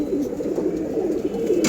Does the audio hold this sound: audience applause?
no